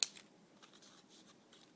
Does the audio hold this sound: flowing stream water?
no